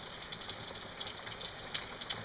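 Soft rain falls in a constant quiet hiss, with scattered faint droplet taps spread evenly throughout.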